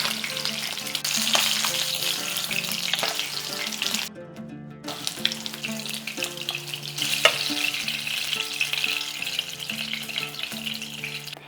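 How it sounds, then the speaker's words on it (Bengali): Rui fish fries in hot oil in a home kitchen, giving a steady, busy sizzle with spattering crackles that runs throughout, broken by a brief near-silent gap partway through. "মাছটাকে আমি হালকা লালচে করে ভেজে নিয়েছি"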